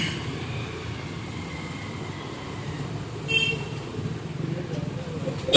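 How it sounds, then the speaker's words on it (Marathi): Vehicles moving along a crowded road, a steady low rumble of traffic with a brief passing swell near the end, heard alongside people talking. "गाड्या रस्त्यावर, तिथं सगळी गर्दी."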